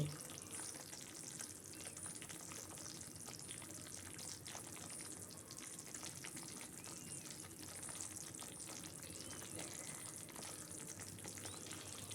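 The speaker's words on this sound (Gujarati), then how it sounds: "આવી રીતે થોડું ગુલાબી થાય ત્યાં સુધીને આપણે શેકવાનો છે" Flour dry-roasts in a pan until pinkish for kada, producing a quiet, continuous fine sizzle with occasional light stirring scrapes, steady and close with no voices.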